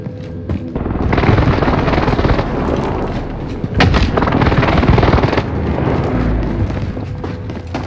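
Airstrike explosions and heavy gunfire in the video game Warzone, a dense continuous barrage of booms and rapid shots, loud and close, with a second wave of blasts partway through.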